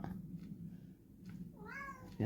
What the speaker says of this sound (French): J'ai mon chat qui chante.